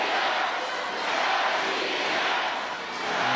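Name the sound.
partisan crowd cheering at a Russia vs USA basketball game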